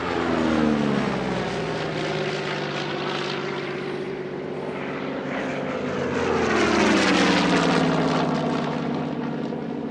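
Boomerang propeller fighter flying an airshow display in Leszno, its piston engine droning loudly and rising in pitch as it passes close, then swelling again with a second pass, no voices.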